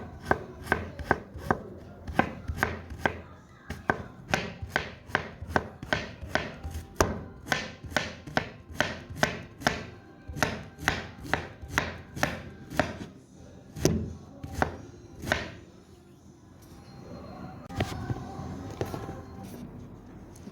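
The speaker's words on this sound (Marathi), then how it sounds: "तर ही फुलं पण आपण जी क्लीन केलेत ती पण आता बारीक बारीक चिरून घ्यायची आहेत." A knife finely chops cleaned banana flower on a board in a home kitchen, quick rhythmic close-up strikes in steady runs with short pauses, the pace slowing near the end.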